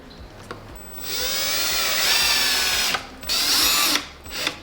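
Power drill boring into a kitchen cabinet door during a renovation, with short bursts of the motor whining up then a long sustained run, followed by two more brief spins; close and loud.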